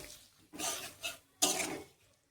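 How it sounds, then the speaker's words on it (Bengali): Spice paste is stirred and fried in a pan for an echor chingri (jackfruit and prawn) dish, with a few scraping, sizzling strokes of a spoon against the pan, close and fairly quiet, separated by short pauses. "এবার মশলাটাকে আমি ভালো করে কষিয়ে নেব।"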